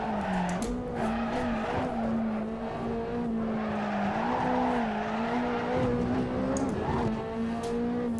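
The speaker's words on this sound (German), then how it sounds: "Wir können ja einfach driften und trotzdem versuchen, dass er uns nicht überholt." A Ferrari 458 Italia drifting on the Nordschleife in Assetto Corsa, its tires squealing in a loud, sustained wavering howl over the steady engine drone throughout.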